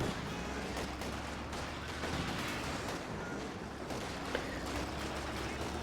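Dense, continuous battlefield gunfire from Company of Heroes 2, with rapid overlapping shots and rumbling bursts of friendly fire filling the mix at a steady loud level.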